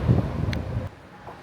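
Wind gusting across the open sky court deck of the Carnival Horizon cruise ship, a loud, steady roar of buffeting wind noise that drops off abruptly near the end.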